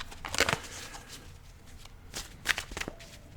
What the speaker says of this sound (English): So as we were shuffling the cards